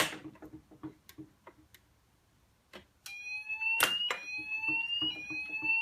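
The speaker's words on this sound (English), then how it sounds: "So I'll just set off the alarm here on our mock-up." A few faint clicks and ticks, then a Zp3 fire alarm panel mock-up starts sounding a loud, steady electronic tone that continues with a sharp beep over it.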